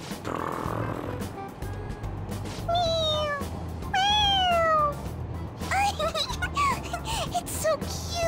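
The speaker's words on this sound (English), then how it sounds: "Yeah, it's just a toy. It meows when you press on its head." Repeated high meows from a toy cat that meows when pressed on its head, in the Persona 5 Royal video game, several rising and falling cries over a background of game ambience and music.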